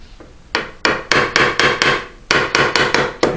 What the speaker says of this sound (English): And they're doing just fine with the hammer.